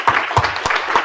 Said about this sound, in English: Can we just take a moment and congratulate them via applause?